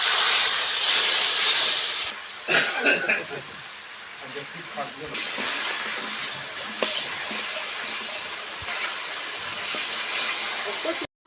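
Water goes into a pan of mango and shol fish curry, setting off a loud, steady sizzling hiss that eases into a softer bubbling simmer with a few light clinks and splashes.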